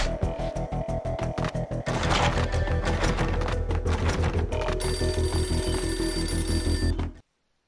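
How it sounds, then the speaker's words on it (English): A beaten-up phone rings in an entrance hall in the game Max Payne, its bell loud and rapidly repeating in bursts before cutting off into silence. "A beaten-up phone in the entrance hall was ringing."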